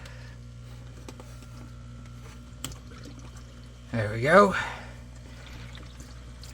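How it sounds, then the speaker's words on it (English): Water from a turtle tank pours into a canister filter once its valves are opened, a brief gurgling gush rising and fading over about a second, with a person speaking quietly before it. "We hear water dumping in."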